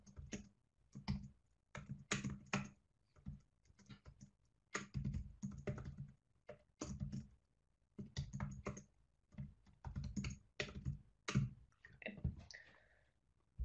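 Python code being typed on a computer keyboard: close, quiet bursts of rapid key clicks separated by short pauses, with an irregular rhythm running throughout.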